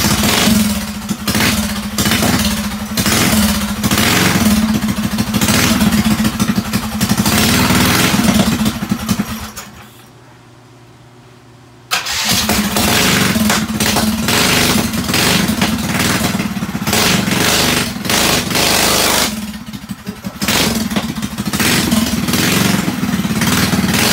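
A drag racing mini bike engine runs loud and steady just after a cold start, with a rough clattering idle and buzzing revs. It cuts out briefly and then picks up again.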